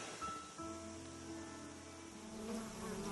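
Bees buzzing in a weedy backyard food garden, a faint steady drone with a few passing tones as insects fly near and away over quiet outdoor background, no talking.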